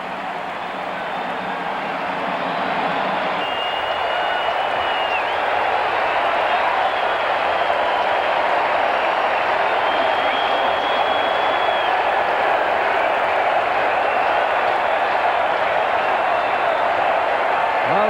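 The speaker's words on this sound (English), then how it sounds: "Crowd chanting "Ho Joe, ho!"" After a Mets two-run home run against the Houston Astros, a large baseball crowd roars and chants in a steady, loud, continuous swell that fills the whole stretch without any break.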